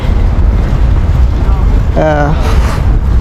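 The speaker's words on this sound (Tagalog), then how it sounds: "kasi masimo yung hangin" Strong, cold wind gusting in Gdansk on a chilly day, a steady loud rumble buffeting the microphone throughout, with a brief tonal whine partway through.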